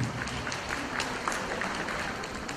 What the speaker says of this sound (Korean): 격려의 박수를 부탁드리겠습니다.